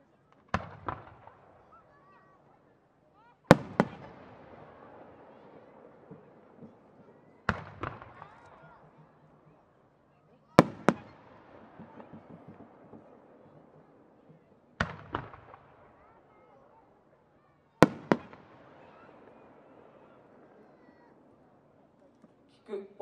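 Stained-glass peony fireworks, shells about 9 cm across, launched by Komatsu Enka at Appi, burst in six sharp booms several seconds apart, some doubled, each trailing off in crackling echoes, with faint talk between.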